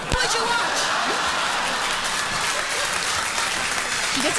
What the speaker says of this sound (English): She gets an applause break every joke.